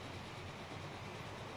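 Trains racing uphill toward a finish line in the video game Transport Fever, a German train among them: a steady, dense rolling rumble that stays even and unbroken throughout.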